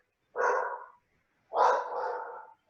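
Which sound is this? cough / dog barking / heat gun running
dog barking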